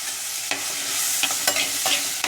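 A spoon stirs two slit green chillies frying in a pan with shallots for a spicy Kerala sardine curry, a steady sizzle broken by several short scraping strokes, close and fairly loud, with no voices.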